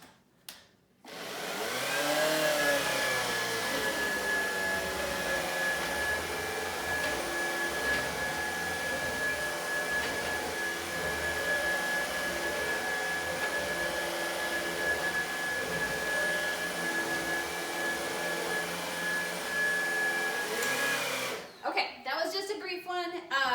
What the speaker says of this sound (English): This one happens to be a cordless shark.